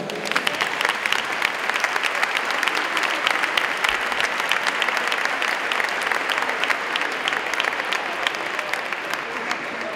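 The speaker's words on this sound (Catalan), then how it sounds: "Un fort aplaudiment per a Quique." Applause from an audience at a sports club's season presentation for the Maderas Sorlí Benicarló team, a dense, steady clapping that fills the whole stretch without pause.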